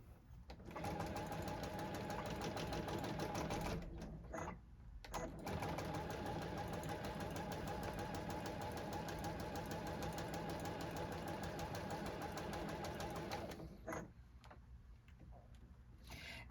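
A JUKI sewing machine stitches the final seam of a fabric zipper bag, a steady close rapid mechanical whir that runs continuously, pauses briefly twice, then resumes and trails off more quietly.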